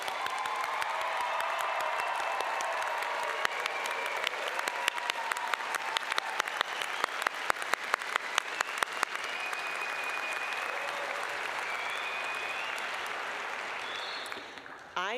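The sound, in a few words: applause for the graduating class at commencement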